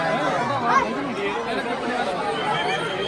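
Dense crowd chatter among visitors packed in to see the tigers at Byculla zoo in Mumbai, a steady close babble of many overlapping voices filling the whole stretch.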